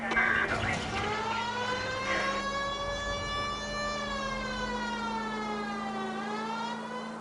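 Police car siren in the video game L.A. Noire, a loud continuous wailing tone with rising and falling pitch sweeps, sustained close up throughout, with brief speech over the start.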